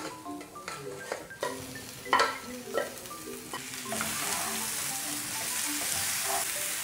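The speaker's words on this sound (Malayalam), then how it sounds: "ഇനി നമുക്ക് നേരത്തെ വേവിച്ച് വെച്ചേക്കുന്ന ബീഫ് ഇതിലേക്ക് ഇട്ട് കൊടുക്കാം." Cooked beef pieces dropped into a hot pan of spiced masala for a Kerala-style pepper roast, scraping and clattering in bursts before a steady loud sizzle settles in, close up with no talking.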